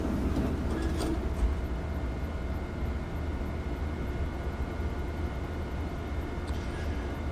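A train pulls away after its doors close in Train Sim World 6, a steady low rumble with faint rhythmic wheel clicks and a few brief metallic tones, continuous and close without speech.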